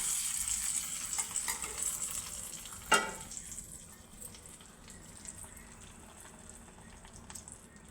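Steady sizzling of spices in hot oil with a sharp crackle near the three-second mark, then a softer, settling fry.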